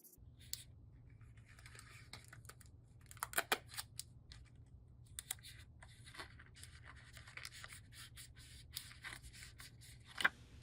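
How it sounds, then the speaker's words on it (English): Scotch tape is pulled, torn and pressed down onto the wings of a paper craft airplane, heard as scattered quiet crinkles, rips and taps close by over a low steady hum. "Place the long piece into the top of the wings and tape it down with"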